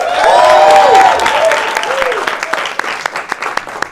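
Live studio audience at a political talk show applauds with cheers and whoops over a host's voice, loud at first and then tapering into scattered claps.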